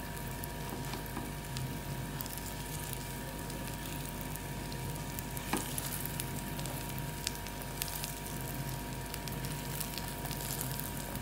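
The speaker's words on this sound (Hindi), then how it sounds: "इस तरह करके इनकी जो चारों साइड है वो आप जो है वो फ्राई कर लें।" Cheesy potato chicken fillets frying in a pan, a soft, even crackling sizzle with scattered tiny pops, faint and constant throughout.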